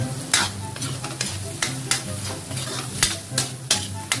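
Sautéed mung beans with fish sauce being stirred in a pan, a quick series of spoon scrapes and clinks over a soft bubbling sizzle, close up with no speech.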